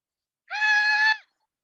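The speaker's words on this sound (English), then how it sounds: "Just then, we hear a raptor screech." A hawk's screech rings out as one loud, harsh, sustained cry lasting under a second and ending with a slight downward bend, standing alone against silence.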